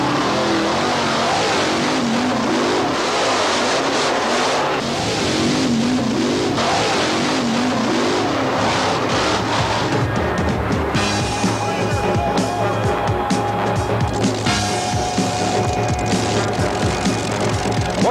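Loud, continuous roar of truck and tractor pulling engines at a 1988 indoor pulling event, with revving and mechanical rumble, steady throughout with crowd-like noise underneath.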